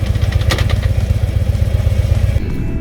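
A motorcycle idles close by with a rough, throbbing beat and a brief mechanical clunk as it is put into gear, the engine continuing to chug steadily afterward.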